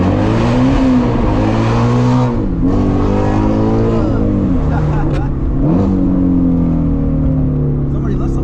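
Shelby GT350 Mustang pulling hard through first gear, its engine note rising steadily and loud from inside the cabin, with brief dips at shifts or throttle lifts and people talking over it.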